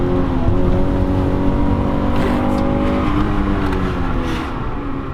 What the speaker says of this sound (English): this engine is actually pretty good. It makes some good torque.